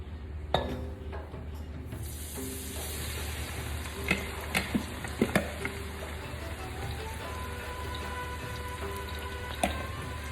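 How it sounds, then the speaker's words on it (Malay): Steady sizzling of shallots frying in hot oil in a wok, with occasional clinks and taps of a utensil against the pan. No voices. "sekarang kita goreng bawang pula"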